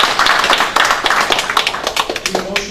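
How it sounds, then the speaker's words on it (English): A room at a city council meeting breaks into brief applause, a dense patter of clapping hands that thins toward the end as a voice begins to speak. "Let's give him applause for this video."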